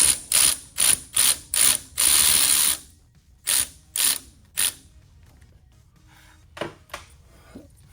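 A hand ratchet tightens a bolt on the hub assembly of a 2015-2017 Ford F-150 4x4, giving several quick bursts of sharp clicking close to the mic, then a few slower, quieter clicks with pauses between.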